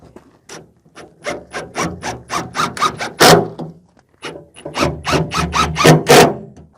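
Screws from a tankless water heater kit being driven into an RV frame, heard as a run of rough, grinding bursts in quick succession, a pause, then another close, loud series without talk.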